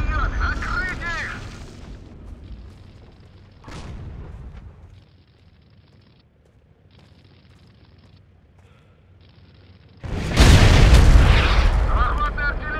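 Artillery in the Stalker MWM mod, on a Slaviansk frontline in Donetsk oblast, booms loudly in heavy blasts at the start and near the end, with a sharper single report between them and a quiet voice in the lull.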